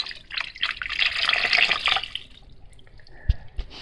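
Water running and splashing while rinsing out a crashed DJI Phantom 3 Pro drone after a dunk in Puget Sound seawater, a steady close gush that thins out, ending with a couple of soft knocks.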